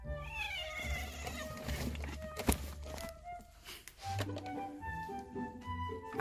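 A house cat meows indoors, its calls mixed with shuffling and movement close by.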